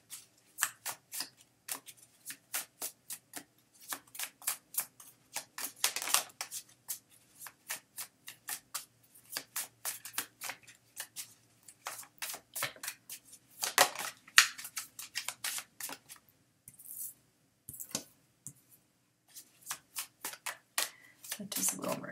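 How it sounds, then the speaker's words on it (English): Tarot cards shuffled by hand in close, crisp riffling flurries, a fast run of papery snaps and flicks with brief gaps, quiet and near. "Waiting for the cards to fall out."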